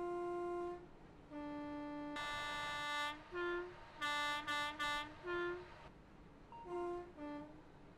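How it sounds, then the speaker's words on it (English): A train horn in Train Simulator 2020 honks repeatedly, a long opening blast followed by several short and medium toots in an uneven rhythm, loud and close. "I love honking the horn."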